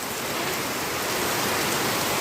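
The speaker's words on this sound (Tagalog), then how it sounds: "Lakas na naman ang ulan." Heavy rain pours steadily, a dense, constant hiss of drops hitting surfaces with no pauses.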